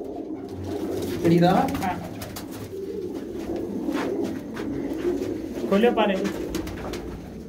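Pigeons belonging to a pigeon keeper coo in low, rolling bursts nearby, two stronger swells standing out, while someone talks over them.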